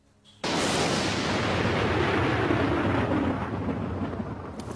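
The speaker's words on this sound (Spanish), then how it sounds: "Los rayos caen sobre Sudáfrica." A sudden sharp crack of lightning breaks into a long, loud, rolling thunder rumble over South African bushland, sustained and slowly fading, with no voices.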